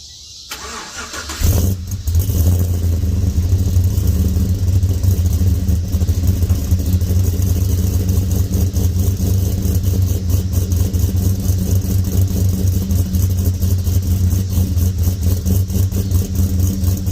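A car engine cranks briefly and catches, then settles into a steady, even idle that runs on close by with a faint whir and no voices.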